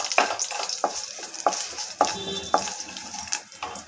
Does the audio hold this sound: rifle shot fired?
no